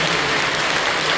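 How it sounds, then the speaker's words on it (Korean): Church congregation applauding after a baptism during a Sunday worship service, a dense steady wash of clapping filling the whole short moment at even loudness. "뜨겁게 박수 주시죠."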